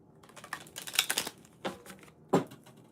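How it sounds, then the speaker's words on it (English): Tarot cards are shuffled by hand in short papery riffles and taps, with a burst of clicks followed by two sharp separate snaps. The sound is close and fairly quiet, with no talk. "I'm going to shuffle the cards and get the advice for you"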